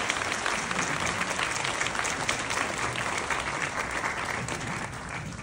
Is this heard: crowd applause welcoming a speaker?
yes